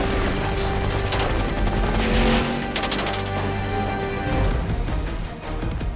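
Loud, continuous gunfire on the set of Fast & Furious 7, fired after a countdown, with dense rapid bursts like automatic weapons filling all six seconds without letup.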